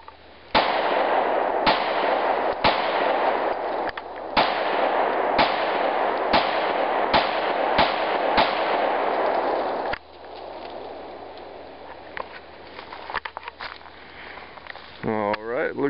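Gunshots from a 9mm subcompact pistol fired into a tree outdoors, a rapid string of about eight or nine loud sharp reports at a steady pace, followed by quieter handling noises and a few softer clicks.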